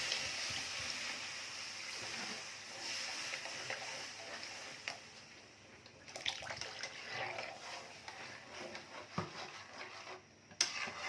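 Water is added to a pot of sour fish curry cooking with tok flowers, giving soft sloshing and bubbling that rises in bursts and then settles into a quiet simmer, with faint clatter.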